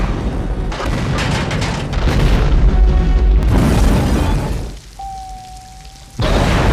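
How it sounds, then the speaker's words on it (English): Elevator explosion in the action film Die Hard: a loud, continuous barrage of booming blasts and crackling debris roars for several seconds, briefly dips to a low rumble with a faint tone, then erupts again abruptly. "Why the hell did the elevator explode?"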